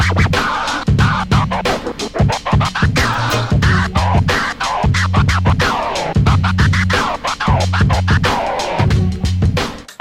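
A DJ scratches on a Pioneer CDJ NXS2 platter over a looping beat, with fast rhythmic choppy cuts and pitch-swept scrapes repeating loudly for about ten seconds.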